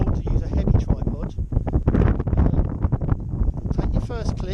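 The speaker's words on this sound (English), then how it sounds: "it's quite windy today" Wind buffets the microphone in steady gusts outdoors in Snowdonia, Wales, rumbling low beneath a person speaking throughout.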